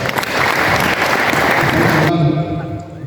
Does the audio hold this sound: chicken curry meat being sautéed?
no